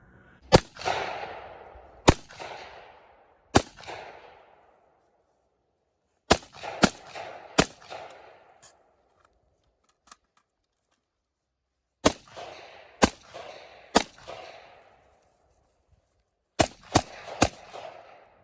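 Rifle and pistol shots at a shooting drill, sharp loud cracks fired singly and in quick pairs and bursts with short pauses between, each ringing out briefly, with no voices.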